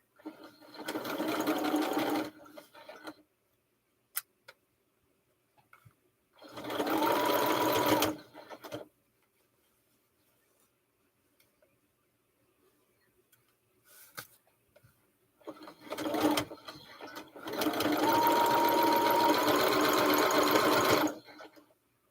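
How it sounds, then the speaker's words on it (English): A vintage Singer Featherweight sewing machine stitches in three bursts, a rapid close mechanical chatter starting and stopping with quiet pauses between, the last run the longest, alongside faint ticks and no talk. "You sewed it with your featherweight."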